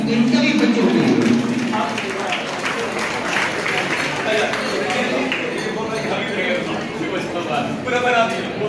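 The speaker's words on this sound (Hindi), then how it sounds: "एक बार जोरदार तालियां इन सभी बच्चों के लिए।" Students scoring above 90 percent are cheered with a loud, continuous round of clapping from the crowd at a school awards ceremony, while voices carry on over the applause throughout.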